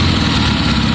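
A Triumph Bonneville T120 motorcycle engine, fitted with a Pazon electronic ignition and undergoing carburettor adjustment, idles close by in a steady, dense chugging drone with no talk.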